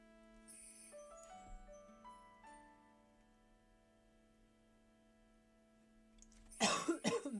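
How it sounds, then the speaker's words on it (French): A single short cough bursts out near the end, loud and close, after a long stretch of quiet, softly ringing tones. "Je tousse encore un peu."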